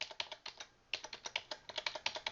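Up and down arrow keys on a computer keyboard pressed in a quick irregular series of crisp, close clicks, with a brief pause near the start, heard alone.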